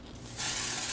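An aerosol can of spray powder releases a steady, close hiss that swells loud partway through and holds for the rest of a brief second.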